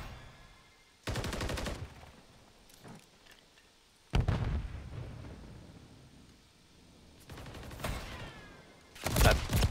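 Video game gunfire comes in several loud close bursts of rapid automatic shots, separated by quieter gaps, with a final heavy volley at the end.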